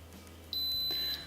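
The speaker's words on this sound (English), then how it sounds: "Once the pressure cooking is done, you will hear a beep" An electric pressure cooker gives a single short, high electronic beep, clear against a quiet room hum.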